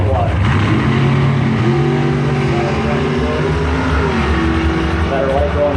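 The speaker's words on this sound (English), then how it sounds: "Chevy Power Dragster take on the Ford Power Dragster." Chevy and Ford Power Dragsters at a drag strip give off a loud, continuous engine roar that rises and falls as the revs change, with an announcer's voice talking over it throughout.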